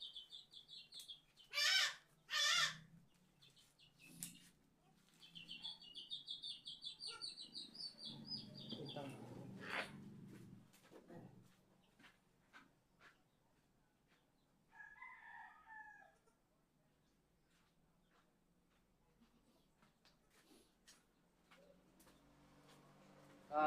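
Chickens on a farm, a rooster crowing loudly near the start, then clucks, squawks and flapping as a chick is chased, with people talking quietly in between.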